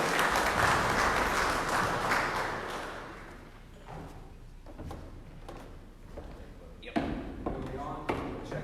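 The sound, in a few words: congregation applauding preacher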